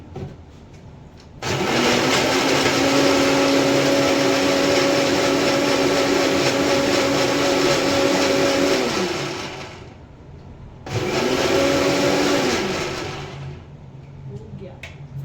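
Mixer grinder blending a protein shake, a loud whirring motor running steadily for about eight seconds, stopping, then a second shorter burst of roughly three seconds.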